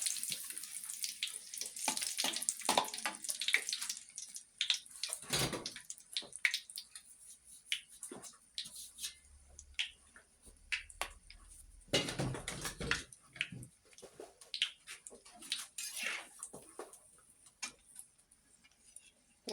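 Terasi shrimp paste frying in hot oil in a village kitchen, the start of a cassava and papaya leaf urap: irregular crackles and sharp pops run throughout, swelling into a denser burst partway through, with no talking.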